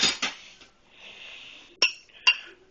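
Small metal spoon clinking against dishes, two bright separate taps after some soft rustling and scraping, close and quiet with no voices.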